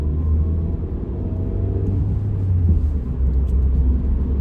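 A Ford Fiesta gathers speed on the road, its engine a low, heavy rumble that stays loud and close, swelling slightly as the car accelerates.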